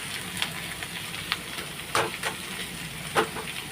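Potatoes frying in hot oil in a home kitchen give a steady, dense sizzle, with a few sharper crackling bursts rising above the hiss.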